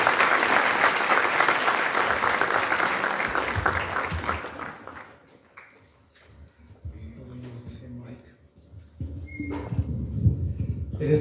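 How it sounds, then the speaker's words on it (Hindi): A church congregation at a Sunday service claps loudly to welcome a preacher forward, a dense burst of applause that fades out after about five seconds, leaving quieter shuffling and faint sounds before the room noise rises again. "हम तालियों में वेलकम करेंगे डॉक्टर देवजन,"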